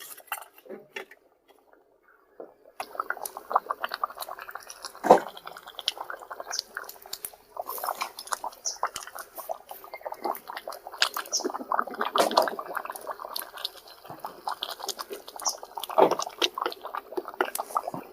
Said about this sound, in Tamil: நல்லா கொதிக்குது பாரு.